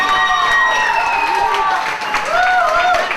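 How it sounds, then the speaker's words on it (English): Crowd applauding the runners-up at a school competition, steady clapping mixed with cheering and voices, with a tonal whistle-like sound drifting over the noise. "Big round of applause for our runners-up because they did such a fantastic job."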